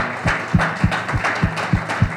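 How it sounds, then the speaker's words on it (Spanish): A church congregation claps at a Spanish-language sermon, a loud run of rhythmic claps at an even pace. "Denle un aplauso."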